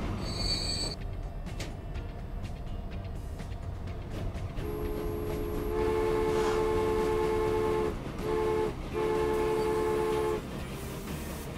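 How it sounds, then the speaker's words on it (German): A train in the Transport Fever video game rolling slowly along its track uphill, a constant rumbling ambience joined midway by a sustained tonal horn-like drone that sounds in several stretches. "da fährt der Zug mit wunderbar langsam 17 km/h auf unserer Strecke"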